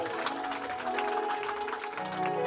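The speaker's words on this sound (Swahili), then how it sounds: "Pigia Yesu wetu makofi." A church congregation clapping at a prayer meeting, a brief dense burst of hands with voices mixed in, moderately loud and close.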